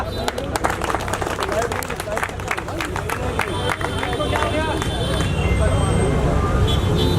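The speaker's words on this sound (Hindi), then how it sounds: "भाई जोरदार तालियां।" A crowd at a 15 August Independence Day celebration in India gives loud applause with mixed clapping, while voices and general crowd chatter run underneath. The noise swells slightly toward the end.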